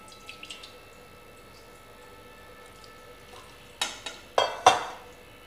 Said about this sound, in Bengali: ডালের কড়াইটা ভালো করে ধুয়ে নিয়েছি